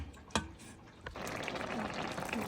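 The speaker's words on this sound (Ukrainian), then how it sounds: "Заливаю водичкою, перемішую до однорідності" Water is poured onto starch and stirred in a kitchen while making a cucumber relish sauce: a short splash and trickle, then a soft, continuous sloshing and swirling, fairly faint and close.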